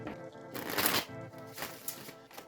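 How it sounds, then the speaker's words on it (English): Oracle cards being shuffled and pulled from the deck, giving a soft papery riffling rustle in a few uneven bursts, close and fairly quiet, with no voices. "Let's pull Oracle cards"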